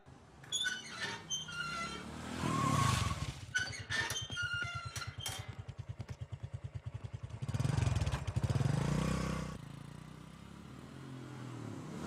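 A vehicle in a dubbed South Indian action film: its engine chugs in a rapid, pulsing rhythm, then surges and pulls away with other scene noise around it.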